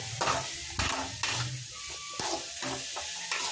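Aachi chilli masala is stirred through a hot pan, a spoon scraping in repeated strokes over a steady bright sizzle, close and alone.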